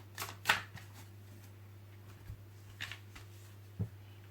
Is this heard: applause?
no